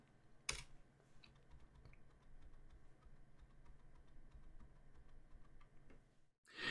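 Soft, steady typing of a ping command on a computer keyboard, a stream of quiet keystroke clicks with a sharper click near the start, no voices.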